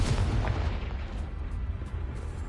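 A booming blast from a Confringo spell in the video game Hogwarts Legacy hits at once, a deep, heavy rumble that fades over a couple of seconds with faint crackling debris after it.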